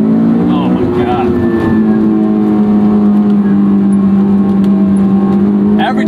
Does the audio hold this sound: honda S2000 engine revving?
yes